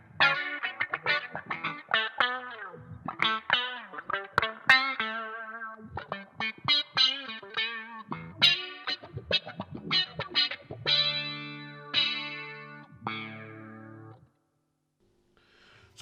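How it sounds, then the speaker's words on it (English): An electric guitar played through an envelope filter effect on a Headrush Gigboard, with quacky, vowel-like sweeps on choppy picked notes and chords, then a ringing sustained chord that cuts to silence. "An envelope filter. Let's try that out."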